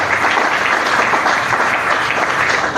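A church congregation applauding for Jesus during a sermon, dense loud sustained clapping from a crowd that fills the whole moment without a break.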